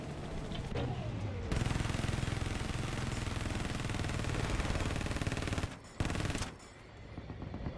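Sustained rapid automatic fire from a mobile anti-air gun vehicle in Battlefield 4, a dense loud burst lasting several seconds, briefly interrupted, then resuming with engine rumble beneath.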